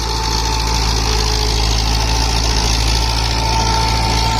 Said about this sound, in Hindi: देखो ये जबरदस्त परफॉर्मेंस है रूटर का, 16-19 की गरारी पर रूटर चला हुआ है नेटर का